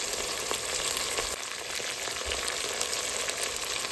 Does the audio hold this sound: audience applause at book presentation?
no